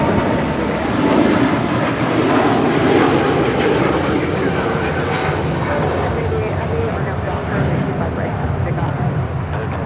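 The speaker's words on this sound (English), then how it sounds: "This is Philippine Airlines Flight 113 departing to Manila on 777-300ER." Philippine Airlines Boeing 777-300ER departs Los Angeles International Airport for Manila with a loud, sustained broadband jet roar that holds steady throughout, with voices talking over it.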